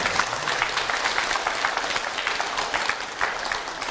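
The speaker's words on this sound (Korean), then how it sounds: "공감하시는 분 박수 쳐" Audience at an education talk applauding, dense continuous clapping from a large crowd, loud and even throughout.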